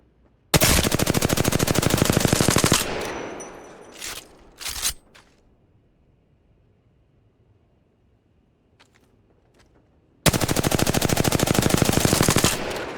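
Automatic gunfire in a video game, two long sustained bursts of rapid shots at the start and end, with brief clicks and rattles in the quiet gap between them.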